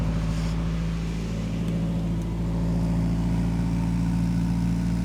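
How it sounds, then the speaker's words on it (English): A turbocharged Nissan KA24DE-T car engine idles steadily on its first start, with a low, even hum and a faint rough pulse, running close by with no voices. "Let's give it a first start."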